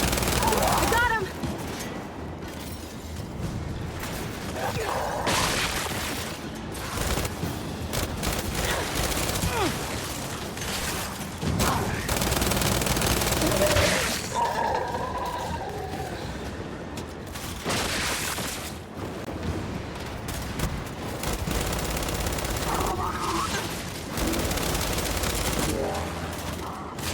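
Sustained turret gunfire in the Gears of War 5 video game, dense automatic bursts and booming impacts running continuously and loud throughout, with shouted voices breaking in now and then.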